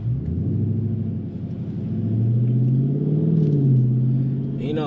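Car exhaust fitted with a newly installed whistle insert, a deep steady rumble that swells as the engine revs, with a rising tonal drone and a brief burst near the end.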